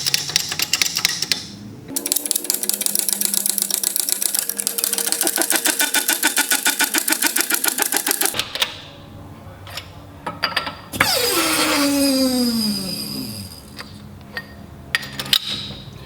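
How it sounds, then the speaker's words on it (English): A press seats a bearing onto the shaft of a Hardin Gen 7 sea pump, giving a long run of rapid mechanical clicking, then a pause, a rising whine and a few scattered knocks. "then we'll go to the press and press it on"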